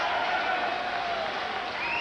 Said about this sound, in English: a warm round of applause from a very appreciative audience